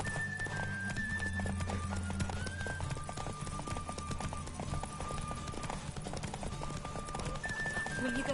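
Hooves of Roach the horse in The Witcher 3 pounding in a steady, continuous gallop, with game music and ambient sound layered throughout.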